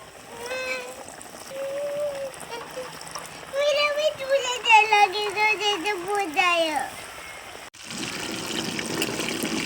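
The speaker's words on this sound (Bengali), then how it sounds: "এবার এটাকে গরম তেলে ছেড়ে দিব" A voice talks over watery background sounds, then marinated KFC-style chicken drops into half-hot oil, setting off a loud, broad sizzle for the last couple of seconds.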